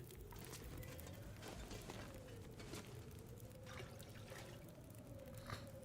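Drinking water in the survival video game The Long Dark produces a steady, close-up gurgling, pouring liquid sound lasting several seconds over a faint low tone.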